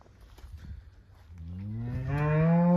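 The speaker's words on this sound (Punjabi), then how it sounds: "ਆਇਰਸ਼ਰ ਬਰੀਡ ਰੈੱਡ ਐਂਡ ਵਾਈਟ ਨਸਲ ਦੀਆਂ ਗਾਵਾਂ" A red-and-white Ayrshire cow moos loudly and close by, one long drawn-out low call rising out of quiet farmyard background.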